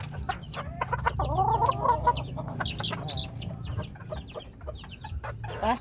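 Free-ranging chickens cluck and squawk close by in a rapid, overlapping series of calls over a low background rumble, with no talking.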